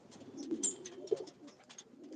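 Pigeons coo faintly in a low, continuous murmur outdoors near a tower, with soft higher chirps flickering over the rolling burble.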